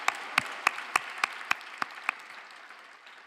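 A church congregation at a Christmas Sunday service gives a brief round of rhythmic applause, about eight distinct claps in an even beat that then fade into the room's reverberation.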